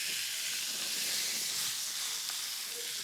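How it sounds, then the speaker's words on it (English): A steak, rubbed with oil on both sides, sizzles on a hot griddle pan, giving a steady close hiss of frying that holds evenly throughout with no talk over it. "So hot griddle pan, listen to the sexy sound of a steak on a grill."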